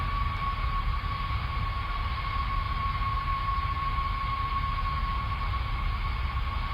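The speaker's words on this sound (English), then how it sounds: "I expect this train to stutter a little bit because it's doing absolutely silly, ludicrous things." A train runs in the Train Sim video game, a steady engine drone and low rumble with a constant high whine, unchanging and even throughout, with no talking.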